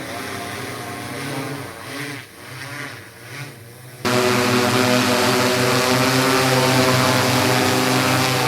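A spraying drone flies over a rubber plantation, its propellers giving a steady tonal buzz that jumps suddenly to a much louder, closer whine partway through and holds there.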